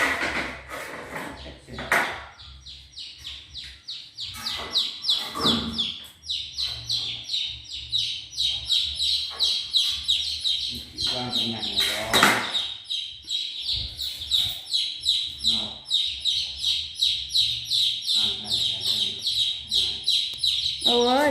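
Baby chicks peep in a steady, rapid stream of high, thin chirps close by around a rural home yard, with a faint voice now and then underneath.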